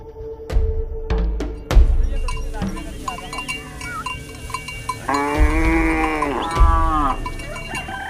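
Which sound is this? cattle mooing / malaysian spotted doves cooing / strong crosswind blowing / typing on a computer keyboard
cattle mooing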